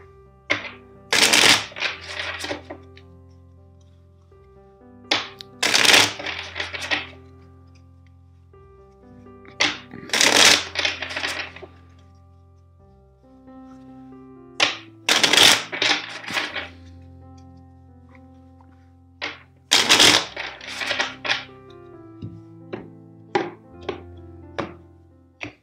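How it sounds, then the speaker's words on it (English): A deck of cards is shuffled five times in a row, each riffle a crisp flurry of snapping cards followed by soft taps and a pause. "First, let's shuffle the deck 5 times for you."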